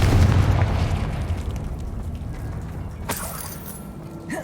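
Spell blasts from the Confringo fire charm in Hogwarts Legacy, a loud booming burst at the start that rumbles and fades, with a sharper crack and pop of another impact near the end.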